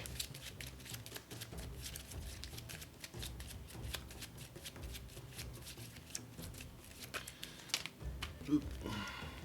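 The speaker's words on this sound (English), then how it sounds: "let's shuffle up our AI deck" A deck of cards for the Kingdom Death: Monster board game is shuffled close by, a dense, continuous riffling and flicking that runs throughout, with a brief louder snap near the end.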